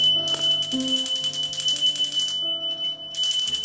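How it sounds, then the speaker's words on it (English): A small bell rings repeatedly with bright, sustained tones over a tarot deck, the shimmering strikes coming in bursts with a short pause before the last round. "With the sound of the bell, I bless this deck."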